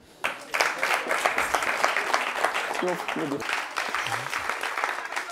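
An audience claps and applauds steadily for several seconds, with a voice speaking over the applause near the end.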